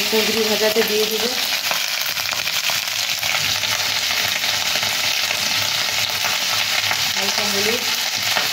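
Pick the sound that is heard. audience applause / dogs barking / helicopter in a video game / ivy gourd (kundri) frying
ivy gourd (kundri) frying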